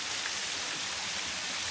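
Water cascading down a stream at a Georgia state park, swollen after several days of rain, giving a steady, even rush of broadband noise that holds unbroken throughout, with no voices.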